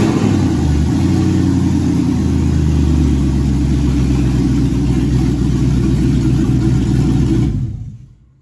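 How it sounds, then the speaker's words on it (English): A 5.3 LS V8 with no exhaust or O2 sensors fires up and runs rough, giving a loud, raw, unmuffled rumble that stays steady and close before cutting off near the end. "I'll give it just a little start here. There's no exhaust on it or O2 sensors, so she might run a little rough."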